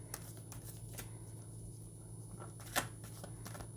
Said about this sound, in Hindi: शफल कर लेते हैं कार्ड्स को।